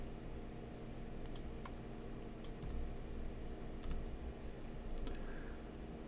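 Computer keyboard keys are pressed while working in Maya 2015 animation software: sparse, faint clicks and taps spaced irregularly over a steady electrical hum.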